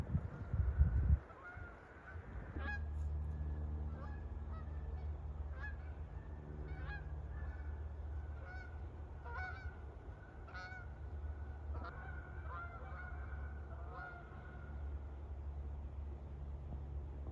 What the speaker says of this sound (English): birds. They're flying.